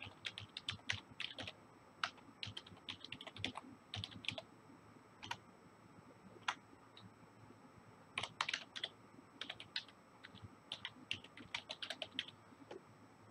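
A password is typed on a computer keyboard: quiet, irregular bursts of key taps with short pauses between them, and no talking.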